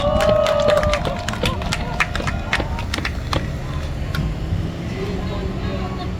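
A crowd claps in dense, scattered bursts at an outdoor election campaign rally on a bridge over a stream in Hongseong, South Korea, with a voice heard briefly over the noise.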